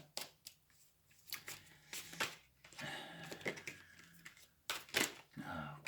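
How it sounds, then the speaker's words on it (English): Rapid papery riffling and flicking of cards being shuffled, close up and uneven in rhythm, with soft clicks and brushes throughout. "It keeps spitting cards at me as I'm shuffling."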